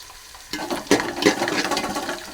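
Four long-sliced green chillies hit hot oil for a halibut fish curry, a quiet hiss jumping into a loud, crackling sizzle with stirring bursts.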